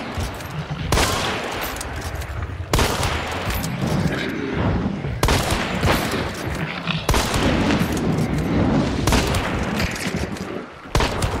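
Loud video game gunfire, with bursts of shots and sustained automatic fire in repeated close blasts, some cutting out abruptly, while players talk over the action.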